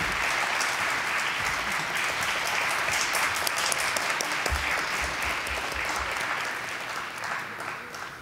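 Delegates at a COSAC parliamentary plenary session applaud a departing permanent member with steady, sustained clapping that fills the hall and tapers slightly near the end.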